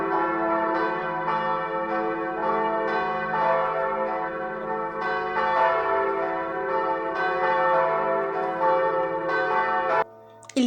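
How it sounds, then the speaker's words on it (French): Church bells pealing at full swing for Easter at Notre Dame cathedral in Porto-Novo, loud overlapping bright strikes ringing continuously for about ten seconds before stopping abruptly. "Les cloches sonnent à toute volée."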